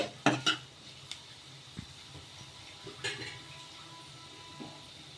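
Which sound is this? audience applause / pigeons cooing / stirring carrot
stirring carrot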